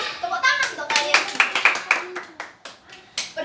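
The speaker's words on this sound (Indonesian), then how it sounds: "Tepuk tangan untuk kalian." A group of schoolchildren in a classroom claps together in an uneven burst of hand claps, close and lively, with some young voices mixed in.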